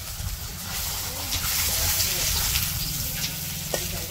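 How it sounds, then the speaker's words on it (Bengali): A big mahseer fish fries in a pan with a steady, close sizzling hiss that lasts throughout, while faint low voices murmur in the background. "মাছ ভাজা হয়ে গেছে, নামে নিতেছে।"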